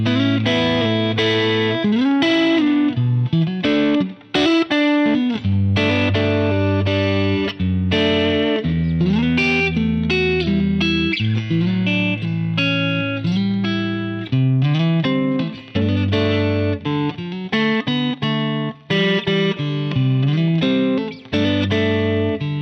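Electric guitar played through Line 6 Helix Stadium amp models, a continuous distorted riffing passage with sustained chords and bright effected tones, loud and up front with no talking.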